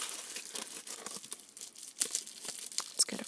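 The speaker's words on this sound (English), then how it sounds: "Covered in bubble wrap." Bubble wrap peeled and crinkled off a limited edition Morning Musume 20th anniversary CD box set, a soft continuous rustle of plastic with small tearing bursts, close and quiet, no talking.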